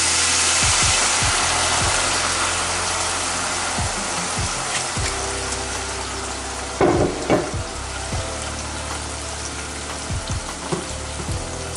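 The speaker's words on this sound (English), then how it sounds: "this is the point where we're gonna hit it with about a good cup of Marsala" Marsala wine hitting a hot pan as tuna marsala cooks, giving a loud, steady sizzle of reducing liquid with scattered clicks and clatters of a utensil against the pan throughout.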